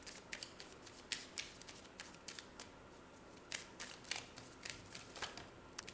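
Tarot cards being handled and drawn from a deck during a reading, a run of soft, crisp shuffling and sliding bursts at close range, quiet and steady with no talking.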